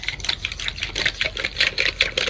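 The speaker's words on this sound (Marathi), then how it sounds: "आणि त्याला परत मिक्सिंग करून घेऊ." A kitchen mixer churns bael fruit juice with water, sugar and jaggery, making a loud, rapid, rattling whir that pulses unevenly in short bursts, with no talking.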